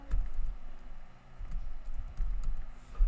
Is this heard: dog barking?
no